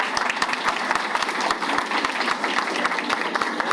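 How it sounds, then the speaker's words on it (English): A round of applause at a school board of education meeting: dense, steady clapping from a seated audience, continuous and fairly loud throughout with no talk over it. "Another round of applause."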